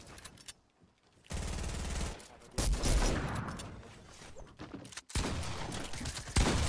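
Video game gunfire from a Fortnite match, coming in loud bursts of rapid shots separated by short quiet gaps, with game sounds continuing throughout.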